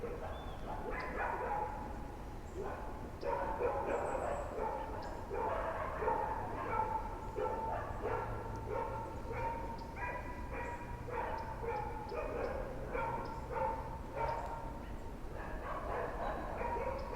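Dogs bark and yip continuously in the distance near a Georgia river while bass fishing, a steady chorus of overlapping barks and whimpers, moderately loud and unbroken.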